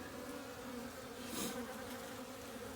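Honeybee colony buzzing during an early spring hive inspection, a dense continuous hum of many bees close by, with one bee briefly passing louder near the middle.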